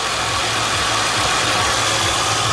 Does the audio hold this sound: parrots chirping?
no